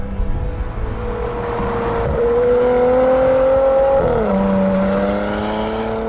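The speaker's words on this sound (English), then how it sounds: "it's impossible to miss the rather more vocal exhaust with its growls, pops and bangs" A Porsche Macan GTS, a high-performance SUV, accelerates hard, its engine note climbing steadily and loud and close, stepping through a gear change around the middle before rising again, with no talking over it.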